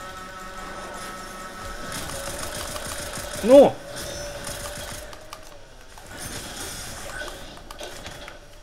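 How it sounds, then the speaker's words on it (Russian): A motorcycle engine buzzes off to the right in two moderate stretches over a steady background tone, with a short shouted voice between them. "Мотоцикл по правую сторону стороны."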